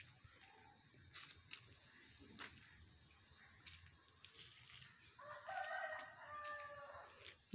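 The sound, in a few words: roosters and hens foraging outdoors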